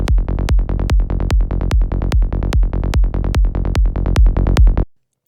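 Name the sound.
Vital synth bass preset New School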